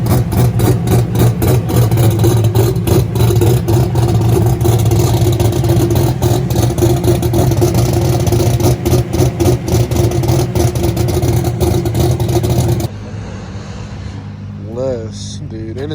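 A small modified truck with an On 3 twin-turbo kit drives past at a Streetcar Takeover drag event in Bowling Green, its engine loud and revving steadily close by before cutting off abruptly, leaving quieter background noise.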